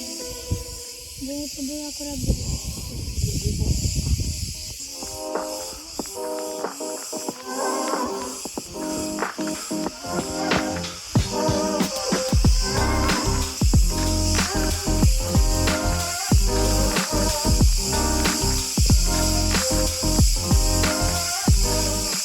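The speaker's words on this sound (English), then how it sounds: "the Cretan cicadas were still everywhere, making their unique sounds." Dense, continuous buzzing and rasping of Cretan cicadas fills the air in Crete, pulsing and layered, with some low rumbling sounds early on.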